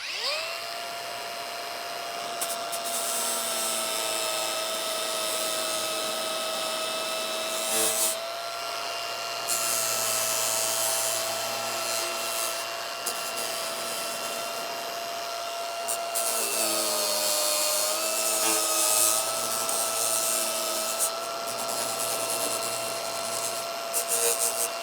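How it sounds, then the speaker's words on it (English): Flap disc on an angle grinder working the edge of a steel front winch bumper for a Toyota 4Runner, a loud steady whine with strong tonal harmonics running almost the whole time, briefly dipping and shifting pitch as the load changes. "now I'll switch to this flap disc here"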